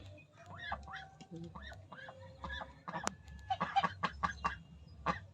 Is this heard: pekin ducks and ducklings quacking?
yes